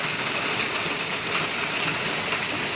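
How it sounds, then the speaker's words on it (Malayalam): A week-long spell of monsoon rain falls as a steady, even wash of broadband hiss, loud and continuous without a break. "പനിയെടുക്കാൻ മേലാതെ ഒരാഴ്ചയായി മഴ."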